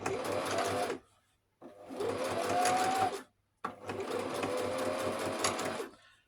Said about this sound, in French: Et le pied presseur, il va piquer au bord.